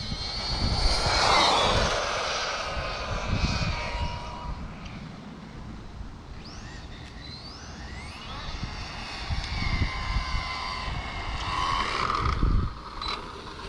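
An Arrma 1/8 Infraction 4x4 3S BLX brushless RC car on a Gens Ace 6500mAh 3S HV battery makes a full-throttle speed pass, its high motor whine swelling loudly near the start and again toward the end.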